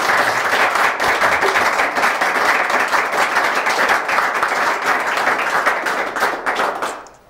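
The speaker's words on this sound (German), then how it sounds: "jetzt möchte ich aber meine Gäste ganz herzlich begrüßen mit eurem Applaus" Studio audience applause greets guests on a talk show, a loud, sustained wash of many clapping hands that carries on evenly for several seconds before fading out at the end.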